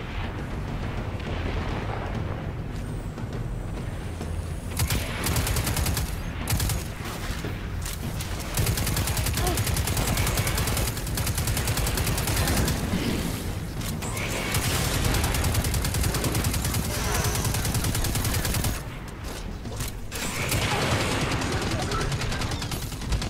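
Dense, continuous gunfire from the Destiny 2 video game, with rapid shots and blasts layered over one another at steady loudness and a few brief lulls throughout.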